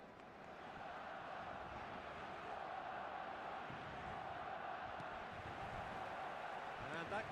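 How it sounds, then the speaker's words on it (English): A packed football stadium in eFootball roars with a steady, broad wash of crowd noise, constant and moderately loud throughout with no clear peaks. "The stadium is full of noise and energy."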